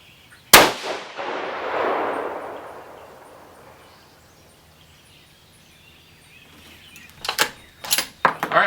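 A single loud, close rifle shot from a 6.5 Creedmoor Savage 110 firing Barnes 140-grain Match Burner rounds, followed by a fading outdoor echo, then a few sharp clanks and knocks near the end.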